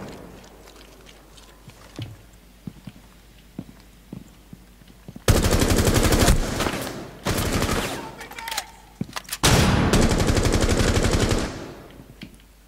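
Automatic gunfire in Rainbow Six Siege during a Terrorist Hunt match, long loud sustained bursts of rapid shots after a quieter stretch of scattered clicks and footsteps, close and dominant.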